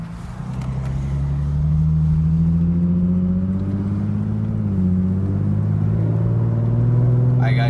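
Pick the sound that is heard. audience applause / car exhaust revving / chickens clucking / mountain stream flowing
car exhaust revving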